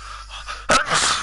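A single sharp human sneeze bursts out loud and close after a brief breathy intake, then a trailing exhale.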